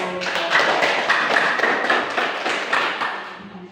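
A classroom of students applauding: brisk clapping from a small group, close and fairly loud, swelling and then tapering off over a few seconds with no speech.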